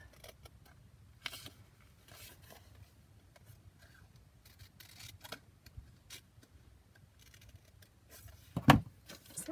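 Scissors snip paper for a tabbed junk journal: faint, sparse cuts in a quiet room, with one sharper, louder snip near the end.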